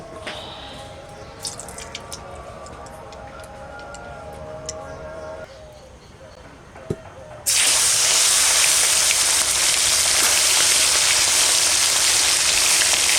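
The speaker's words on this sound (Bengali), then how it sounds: "কড়াই গরম হয়ে গেছে আমি সর্ষের তেল দিয়ে দেবো" Mustard oil poured into a hot wok in a home kitchen bursts into a loud, steady sizzle that spreads wide and hissing, following a quieter stretch of faint clinks and drips.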